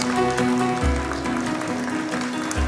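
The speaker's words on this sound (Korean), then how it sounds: "마이크 펜스 부통령 내를 기립박수로 열렬히 환영해 주시기 바랍니다." A church congregation rises in a standing ovation to welcome Mike Pence, with steady, dense applause filling the room while sustained music plays beneath it.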